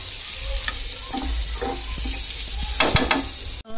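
French toast frying in a hot pan, a dense continuous sizzle up close with some scraping and clinks from the spatula near the end.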